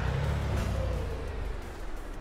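A truck engine with a custom sound pack in Euro Truck Simulator 2, a loud, deep, continuous rumble that eases slightly in pitch and level as it runs, with no talking over it.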